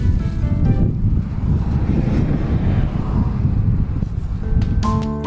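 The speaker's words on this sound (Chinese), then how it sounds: "因为下午变天了，狂风大作" Strong wind blows during a cycling trip through Tibet with a human-powered camper, a steady low roaring rush with buffeting noise, and brief faint beeping tones near the end.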